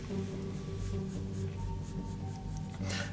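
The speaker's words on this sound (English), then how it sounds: "I'm still drawing pretty light because these lines are all going to be erased." Pencil drawing a cartoon turkey on paper with light strokes, a soft continuous scratching and rubbing, faint and close, over a low background hum.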